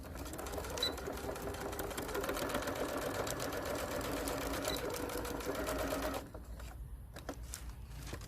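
A sewing machine stitches along the hem of a lightweight cape tarpaulin tent in a steady, rapid mechanical whirr, loud and close, then cuts out abruptly near the end, leaving quieter room noise.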